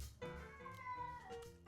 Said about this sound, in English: I'm pretty sure you heard that. That was my cat.